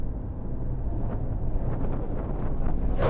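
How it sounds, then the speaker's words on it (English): Strong gusty wind buffets the microphone at a race track, a loud low rumbling roar that surges and eases continuously with no speech. "It is super windy."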